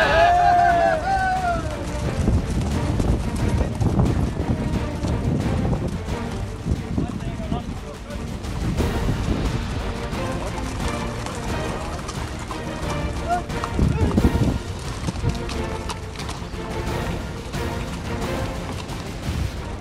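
Hooves of Crioulo horses clip-clopping on the ABCC annual endurance march in Rio Grande do Sul, Brazil, a dense continuous clatter of many hooves under a voice talking throughout.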